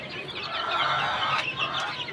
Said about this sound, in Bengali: এই সিল্কি মুরগিগুলো এনেছিলাম